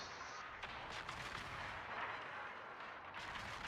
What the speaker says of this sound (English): And Clown Pusher, way to go with adding your guns